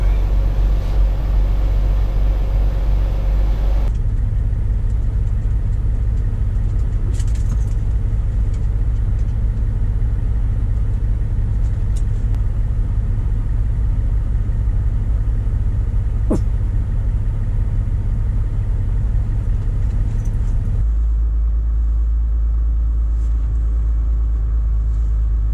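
A semi truck's engine idles while waiting in line, a loud, steady low diesel rumble that continues unbroken, with its tone shifting slightly a few times and faint clanks in the background.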